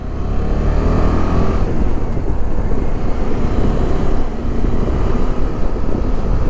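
A car drives steadily along a winding village road on a coastal route, its engine and road rumble loud and continuous with strong wind buffeting the microphone throughout.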